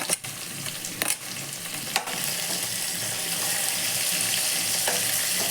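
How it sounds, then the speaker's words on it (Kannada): Thinly sliced onions fry in a pan with a steady, fairly loud sizzle, broken early by a few clanks and scrapes of a spoon stirring them, with no talking. "ಈಗ ನಾನು ಇದಕ್ಕೆ ಹೆಚ್ಚಿರುವಂಥ ಸಣ್ಣದಾಗಿ ಹೆಚ್ಚಿರುವ ಈರುಳ್ಳಿ ಹಾಕ್ತಿದ್ದೀನಿ"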